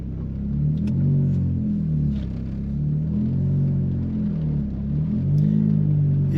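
A Volkswagen Golf Mk1 pulls away, its engine giving a low, steady rumble that rises and falls as it revs through gentle acceleration, heard from inside the moving car.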